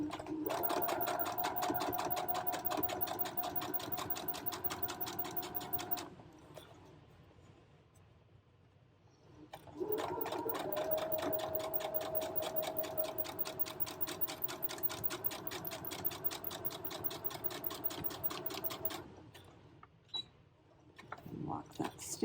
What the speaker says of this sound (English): And I'm sewing just right on the edge of that fold.